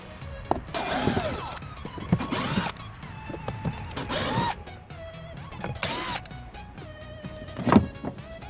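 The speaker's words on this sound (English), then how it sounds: "I'm going to go and use drill just to speed up the process." Power drill with a T15 bit driving screws to fit a new Sony speaker into a Dodge Avenger, several short whirring bursts separated by pauses, close and fairly loud, with faint clicks and handling noise between them.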